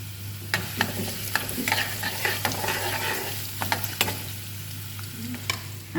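Ginger and garlic sizzle in hot oil while a spoon stirs and scrapes the pan, giving a steady close crackle broken by sharp, irregular clicks and scrapes.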